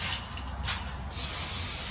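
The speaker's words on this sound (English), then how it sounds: "I might just hit this blue squirt with the silicone spray when I see it." Silicone spray from an aerosol can hissing in two short bursts and then a steady, louder continuous spray, close by, with no talking.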